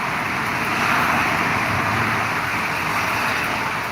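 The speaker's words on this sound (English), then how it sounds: "Cars running past." Cars pass on a rain-soaked road, making a dense, unbroken tyre hiss and rumble that stays loud and near throughout.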